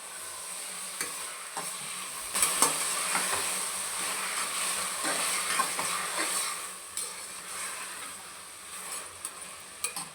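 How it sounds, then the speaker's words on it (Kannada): Apple tomatoes and onion cook down in a pan for tomato rice, a soft steady sizzle broken by intermittent stirring scrapes and light clinks of a spoon against the pan. "ಈಗ ಇದಕ್ಕೆ ದೊಡ್ಡದಾಗಿ ಹಚ್ಚಿಟ್ಕೊಂಡಿರೋ ಅಂಥ ಆ್ಯಪಲ್ ಟೊಮೊಟೊ ಸೇರಿಸ್ತಾ ಇದ್ದೀನಿ"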